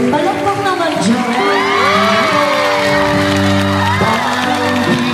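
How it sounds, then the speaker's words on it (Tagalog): A crowd cheers and whoops at a town fiesta musical variety show, loud and steady, mixed with music and a singing voice running throughout. "Palakpak naman dyan."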